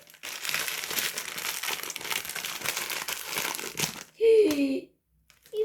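Plastic wrapping crinkles and rustles steadily for several seconds as a badly packed parcel stuffed with sponges and rubber bands is opened up close, followed by a brief voice and then quiet.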